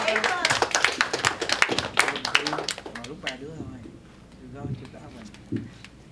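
Scattered clapping from a small gathering at a memorial, brisk and fairly close for a few seconds, then thinning out into a few isolated claps as a voice begins to speak.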